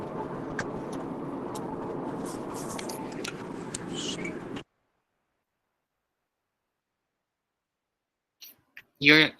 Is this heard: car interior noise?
yes